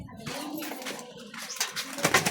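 A racing pigeon coos close by, with a few soft throaty calls broken by rustling and handling noises in a short, busy stretch.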